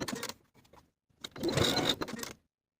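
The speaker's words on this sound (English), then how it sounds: "we're going to sew this flap down on each outer edge with a 5/8 inch seam allowance" A sewing machine stitches down a shirt pocket flap along its outer edges, a short burst of close, busy mechanical whirring after a brief earlier run, then stopping.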